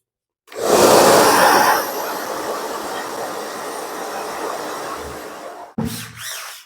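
A hair dryer blows steady, close airflow over a freshly emulsion-coated screen printing frame. The rush is loudest at the start, then holds level for about five seconds before cutting off, followed by brief handling sounds.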